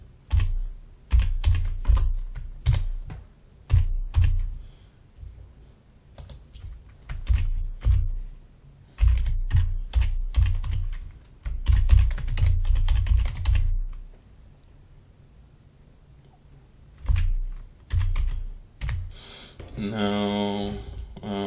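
Typing on a computer keyboard to enter a Wi-Fi username and password while setting up an ESP32 IoT project, with rapid bursts of clacking keystrokes separated by short pauses, close and clear, and a brief voice near the end.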